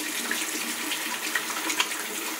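Tap water running steadily into a sink while hands are rinsed, a continuous soft hiss with small splashes throughout and no voices.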